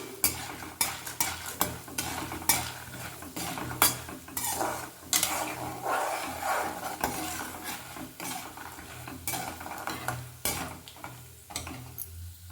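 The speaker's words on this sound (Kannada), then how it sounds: "ಸ್ವಲ್ಪ ಕಡಲೆಕಾಯಿ ಬೀಜ ಹಾಕ್ಕೊಳ್ತೀನಿ ನೋಡಿ ಸ್ವಲ್ಪ ಮೊದಲು ಕುಟ್ಕೊಂಬಿಡೋಣ ಈ ಥರ ಎಣ್ಣೆಯಲ್ಲಿ" Peanuts fry in oil for tamarind rice, with a soft sizzle under repeated, uneven scraping and clinking strokes of a spoon in the pan, close and fairly loud.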